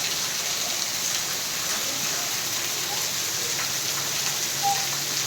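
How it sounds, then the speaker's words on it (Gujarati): Steady, dense rain hiss in the Bhadarvo monsoon season at Kalasar near Chotila, Gujarat, continuous and fairly loud with no speech over it. "ભાદરવા મહિનાનો સારો એવો વરસાદ પડી"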